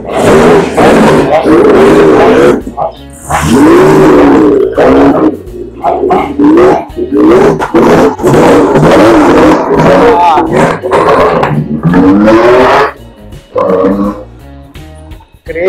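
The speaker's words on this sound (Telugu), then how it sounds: "కార్ అయితే వెళ్తుంది గైస్" A vintage car's engine roars loud and close as the car pulls away at a vintage car collection in Dungarvan, rising and falling in rough bursts with brief dips between surges.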